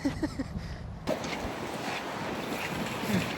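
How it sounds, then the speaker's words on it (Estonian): Strong gusty wind in Reykjavik, Iceland, roars and buffets the microphone almost continuously, with a few brief low thumps at the start before the blustery rush takes over. "Väga tuuline."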